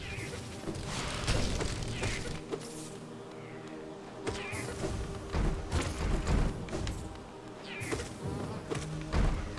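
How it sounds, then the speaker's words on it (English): Bee enemies in the video game Hollow Knight hum with a steady insect-like buzz, broken by repeated thumps and impact hits from combat. "So we're gonna have to kill the bees."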